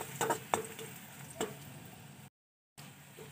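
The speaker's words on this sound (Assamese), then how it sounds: "দিয়াৰ পাছত এইখিনি অকণমান মই এনেকৈ ভাজি লৈছোঁ" Red chili powder and spice masala fry in a pan with a soft, steady sizzle, a few sharp ticks of a spoon stirring, and a short gap of silence.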